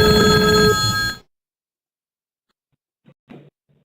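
Workgroup desk telephone stations ringing together in an office, a bright electronic trill lasting about a second before cutting off, followed by near silence and a few faint clicks.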